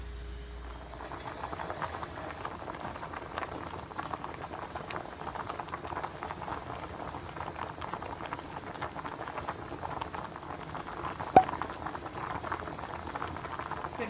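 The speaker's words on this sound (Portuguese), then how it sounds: "E vou deixar ferver pra poder engrossar esse arroz doce." Rice pudding bubbles steadily in a pot on the stove, a continuous soft plopping and hissing boil with dense patter, close and moderately quiet throughout, with one brief sharper tap near the end.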